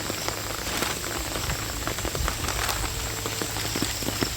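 Heavy rain pours steadily onto a muddy rice field, a dense, loud, unbroken hiss scattered with sharper drop splashes and no voices.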